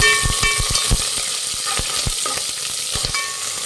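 Green chillies frying in a pan for bele rasam, a close hissing sizzle broken by a run of quick scraping stirs and taps, loud and without speech.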